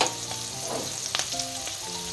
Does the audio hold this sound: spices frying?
yes